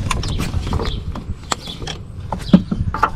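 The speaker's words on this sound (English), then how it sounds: "Press the flathead up against the sensor like that and pull." Metal flathead screwdriver prying a coolant temperature sensor off a 2014-2021 Mazda 6 engine, making a scatter of faint close clicks and scrapes with a couple of sharper knocks near the end.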